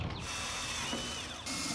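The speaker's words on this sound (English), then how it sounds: "Let's drill." A power drill whirs loudly up close drilling holes in the bed of a 2020 Ford F350 truck, its motor pitch shifting as it bites in, with a brief dip before revving again.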